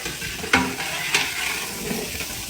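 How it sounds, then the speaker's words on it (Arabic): Onion goes into hot oil with whole spices for lamb kabuli, a steady close sizzle with a couple of sharp crackling bursts as the pieces hit the pan, no voices. "شوية زيت أول شيء وبهارات حب بهذا الشكل على الزيت يطقطق"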